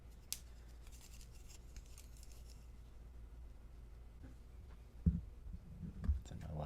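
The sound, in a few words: cutting a clay coil for a coil-built vase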